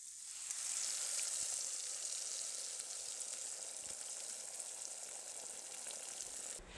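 Eggs sizzle and crackle steadily in a hot frying pan, a dense, continuous frying hiss close to the mic, with no talking over it.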